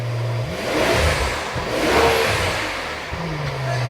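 A rebuilt, crash-damaged Rolls-Royce with a new exhaust revs up and down close by, a throaty roar rising and falling, then dropping back to a steady idle hum.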